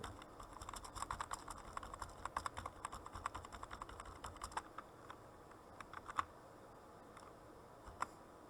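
Keystrokes from someone typing Thai on a computer keyboard running Windows 10 form a quick, irregular run of light clicks, steady at first and then sparser, fairly quiet and close, with no talking.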